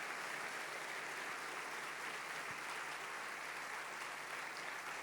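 A church congregation gives steady, sustained applause. The clapping is dense and even, sounds somewhat distant, and runs without voices over it.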